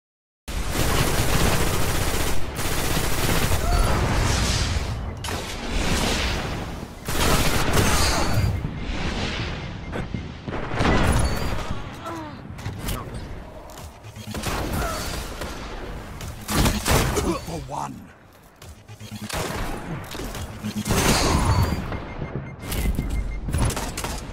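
Gunfire rattles through an online Destiny multiplayer match in dense bursts of rapid automatic shots and sharp single blasts, loud and close, with brief pauses between volleys and no voices.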